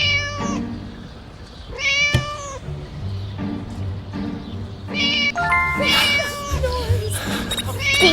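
A cat meows several times, loud and drawn out, some cries rising into strained caterwauls, with a sharp click and background noise between them.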